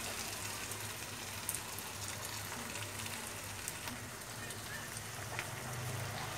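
Hilsa fish frying in a pan gives a faint, continuous crackling sizzle of hot oil, steady throughout with scattered small pops.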